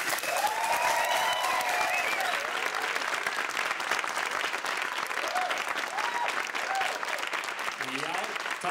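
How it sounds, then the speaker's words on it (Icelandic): Steady, loud crowd applause for a stand-up comedian at a Red Nose Day comedy show, a continuous wash of clapping with a voice briefly audible over it. "Gefum honum gott klapp!"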